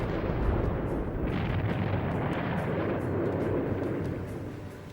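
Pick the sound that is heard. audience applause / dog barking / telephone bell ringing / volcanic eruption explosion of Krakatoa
volcanic eruption explosion of Krakatoa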